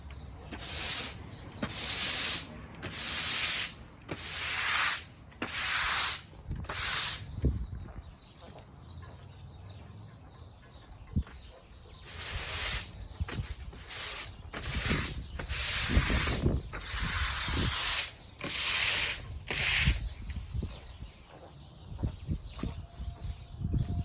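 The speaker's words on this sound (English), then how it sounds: "So I'm actually going to sweep in this direction because I don't want any of this water going towards the fig tree" A broom sweeps a wet cement driveway while oil stains are being cleaned, making repeated bursts of bristly, hissing scrubbing strokes in uneven rhythm, close and fairly loud, with a short quieter pause partway through.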